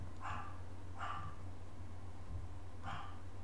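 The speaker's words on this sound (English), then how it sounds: "But that dog just doesn't stop. Just keeps on barking." A dog barks three times at a distance, the barks spaced unevenly and faint against a steady low background hum.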